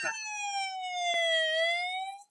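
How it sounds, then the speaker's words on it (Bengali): A fire service vehicle's siren wails during a fire in Saudi Arabia, sounding one long, loud, slowly falling and rising tone with a brief sharp click partway through. "অনেক শব্দ আইতেছে ফায়ার সার্ভিসের"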